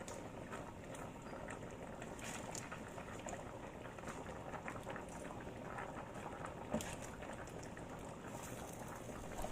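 A pot of pechay leaf soup simmers with a soft, continuous bubbling and gurgling at low volume. A faint clink rises briefly near the end. No one speaks.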